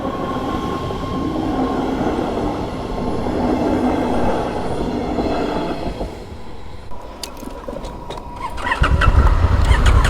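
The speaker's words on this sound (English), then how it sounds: "Here we are, look at that. Almost complete silence, electric. Double-decker train." An electric double-decker tram in Germany rolls past close by with a steady, loud rumble that fades, followed by clanking and a rising low roar near the end.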